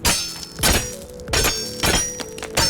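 A weapon repeatedly strikes base walls in the video game Conan Exiles, four heavy thunking, crunching impacts at a regular pace, each followed by a brief shattering decay.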